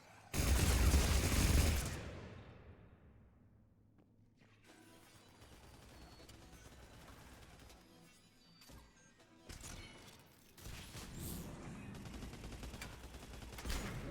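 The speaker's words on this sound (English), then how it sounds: "You're shooting a wall, Liara." Mass Effect gunfire, opening with a loud burst of shots that fades into quieter mechanical rattling, then more scattered firing toward the end at moderate distance.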